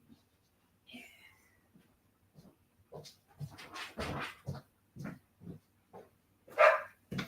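A young dog, a puppy, gives several short barks and yips indoors, scattered across a few seconds and fairly close, with quiet gaps between them.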